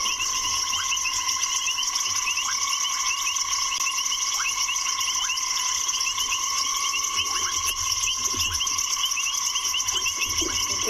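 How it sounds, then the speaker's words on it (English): Loud frogs call at sunset on a safari at Tswalu, a dense, steady chorus of repeated pulsing notes alongside insect trilling that carries on unbroken throughout. "The frogs are so loud though"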